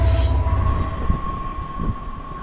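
A train rolls past near an old coal town in West Virginia, a loud, steady rumble with a sustained tonal whine, heard close and continuous with no talking.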